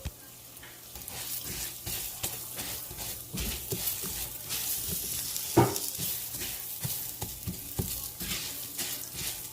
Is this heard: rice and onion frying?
yes